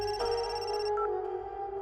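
A telephone ringtone sounds for an incoming call in a Telugu action film scene: a short, steady electronic ringing pattern with no voices over it.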